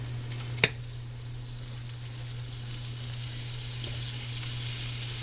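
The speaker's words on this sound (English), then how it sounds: "in our pan, I'm going to add some butter" Butter sizzling in a hot pan, a steady soft hiss with a low hum underneath and one sharp click near the start, and no one talking.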